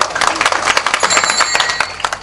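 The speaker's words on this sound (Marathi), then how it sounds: "एकदा तुम्ही तुमच्यासाठी टाळी वाजून घ्या" Audience clapping at a humorous Marathi kirtan by Mukund Maharaj, a dense, steady burst of many hands applauding close by, with some voices mixed in.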